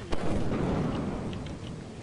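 Deep rumbling thunder from a lightning strike on a stormy planet in a video game, a loud crack at the start rolling into a sustained low boom that slowly fades, with no talking.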